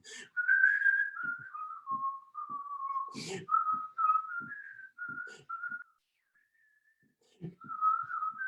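A tune whistled by several people together, a steady bright melody with faint footsteps or thumps beneath, briefly pausing before resuming.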